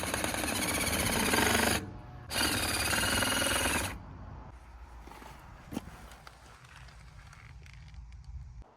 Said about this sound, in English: Now we need to go and drill our 3-inch hole in the side of our well casing that we have in the ground.